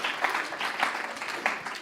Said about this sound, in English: you guys just give yourself a round of applause